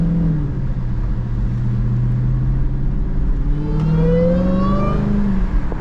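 Dodge Charger Hellcat engine accelerating on a busy, rainy highway, heard from inside the car with the window cracked: a steady loud roar with rising whine-like tones as revs climb, over road and traffic noise.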